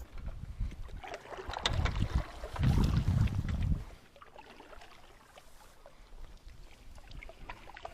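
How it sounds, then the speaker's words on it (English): Gusty wind buffets the microphone on a fishing boat out on the water in late October, loud low rumbling bursts in the first half easing to a softer steady rush. "this darn wind's driving me nuts"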